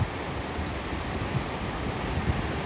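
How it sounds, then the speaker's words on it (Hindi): Strong, high-pressure water rushes along a river in Afghanistan's Panjshir valley, a loud, constant broadband roar mixed with wind buffeting on the microphone, with no speech. "इस तरफ देख सकते हो पानी को, पानी का प्रेशर देखो बहुत ज्यादा है।"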